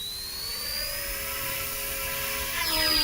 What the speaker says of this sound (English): we're out of the field now with the WLTOYS K170 BlackHawk helicopter